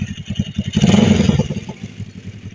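Motorcycle fitted with cheap Chinese aftermarket exhaust pipes revs up close by, its deep throaty rumble swelling into a loud burst of acceleration before settling back to a steady, pulsing idle.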